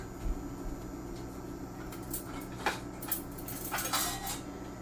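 Metal fork and cutlery clattering against dishes in a home kitchen, a few light clinks and rattles scattered over a quiet background, moderately close and without talk.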